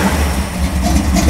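A SC/Rambler gasser car's engine runs with a deep, steady low rumble and light throttle blips, close by; some voice-like sound may be mixed in.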